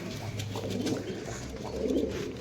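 Pigeons cooing in a pigeon loft, steady soft low coos repeating close by over a continuous murmur of birds, with no talking.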